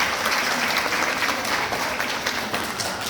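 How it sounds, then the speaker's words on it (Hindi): A women's day audience breaks into loud, dense applause, many hands clapping close by in a steady unbroken wash for the whole stretch. "आप अपने लिए जोरदार तालियां बजाएं"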